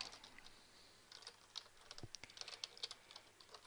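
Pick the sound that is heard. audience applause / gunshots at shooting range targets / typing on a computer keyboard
typing on a computer keyboard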